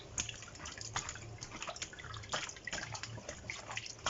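Moimoi ingredients are washed by hand in a bowl of salted water, giving close, continuous splashing and sloshing with small drips and no talking.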